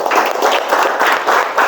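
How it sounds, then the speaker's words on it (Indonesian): Children clapping their hands together in a classroom, a loud, close burst of rhythmic group applause with pulsing waves of claps and no voices over it. "Kita tepuk tangan sekali lagi."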